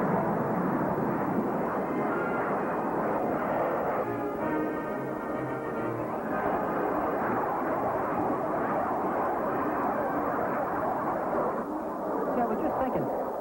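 An airplane engine runs with a steady, dense, roaring drone that fills the whole stretch at an even loudness, with voices talking over it.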